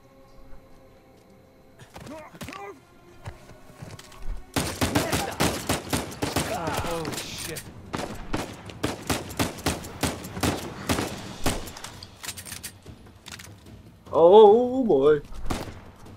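Rapid bursts of gunfire ring out in the video game Uncharted 4, with dense repeated shots over several seconds, loud and close, followed by a few scattered thuds and a brief shout.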